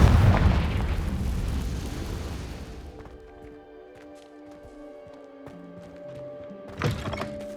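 A Confringo spell blasts in Hogwarts Legacy: a loud, rumbling explosion that fades over about three seconds, followed by faint tonal game sounds and a second short burst near the end.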